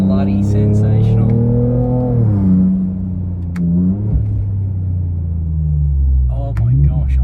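A twin-turbo 3-litre V6 Ford Raptor accelerates hard, its engine note climbing loudly in a long rising roar, dipping briefly at a shift and pulling again, with someone talking over it.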